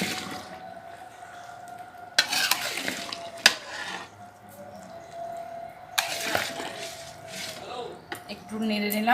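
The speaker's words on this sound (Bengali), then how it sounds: "একটু নেড়ে নিলাম, নাহলে ঝোলটা পুরো উঠে যাচ্ছে।" Vegetable curry with potatoes being stirred in a large pot while cooking for a crowd of about 200 at a Lakshmi puja, with soft scraping, clanks of a ladle against metal and a faint simmering hiss in between.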